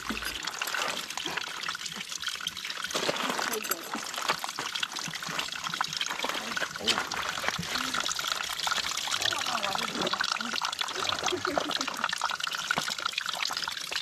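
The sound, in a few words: spring water trickling from hillside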